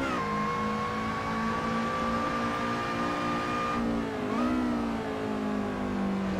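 Race car engine in the Assetto Corsa racing game, holding a steady high drone in third gear through a run of corners, with a short dip in revs and then a climb back up, and no speech.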